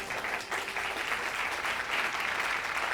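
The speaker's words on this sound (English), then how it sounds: "Round of applause for them." An audience claps for a quiz team at an insurance awareness awards event in Mumbai, a dense steady round of applause that holds at even loudness throughout.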